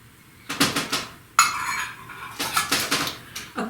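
Metal kitchen utensils clatter and clink as a measuring teaspoon is pulled from a pile of tools during cookie baking, several bursts of jangling close by, with quiet gaps between and no speech.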